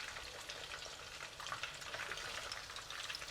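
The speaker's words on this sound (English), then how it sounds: "We'll continue to fry all of them" Steady, crackling sizzle of pork ribs frying in hot oil, continuous and close, with dense popping spatters throughout and no voices.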